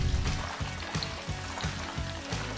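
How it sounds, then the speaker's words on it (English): Two meat cutlets sizzle and crackle in hot oil in a pan, a steady frying hiss with faint rhythmic popping, close and continuous. "I'm frying the 2 cutlets prepared with meat at room temperature"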